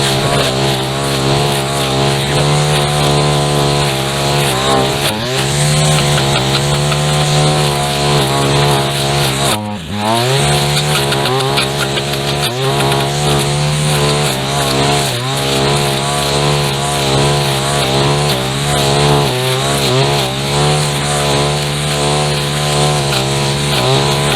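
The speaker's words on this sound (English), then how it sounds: "Coming in on the bushes like you would a string trimmer, cutting them up as you go, instead of just cutting them off at the ground." A brush cutter with a blade chews through overgrown bushes in a long-unmowed entrance lawn, its engine droning loud and close with a brief drop in revs as it bites into the brush.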